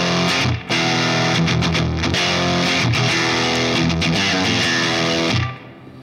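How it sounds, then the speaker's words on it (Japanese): Single-coil electric guitar played through deep, heavy distortion with a noise gate, a dense sustained chugging riff that stays loud throughout, then cuts off abruptly into near silence as the gate closes at the end. "シングルコイルでディープな歪みを作るならもうあのゲートはまあほぼほぼマストなのかなと思うんですけど"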